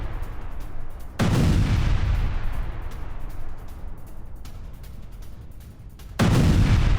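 Russian air strikes in Syria set off two heavy explosions, each a deep booming blast followed by a long rumbling roll, with continuous low rumble between them and no voices.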